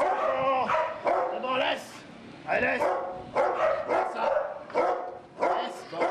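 During a dog-training session that teaches dogs to behave around people, dogs bark and yelp close by in repeated sharp bursts, with short pauses between the volleys.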